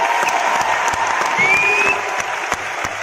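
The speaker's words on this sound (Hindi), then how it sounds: "और मैं एक बार जोरदार तालियां चाहती हूँ" Sustained applause from a large crowd at a business event in Ludhiana, dense and steady throughout, with a brief whistle rising over the clapping.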